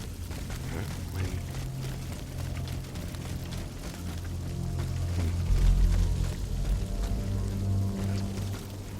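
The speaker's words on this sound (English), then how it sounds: "A lot of leaking water in here. I'm surprised that it hasn't flooded." Leaking water inside the video game Steel Rising, a continuous pouring rush with low rumbling layers beneath it that swell slightly toward the middle, heard alone without talk.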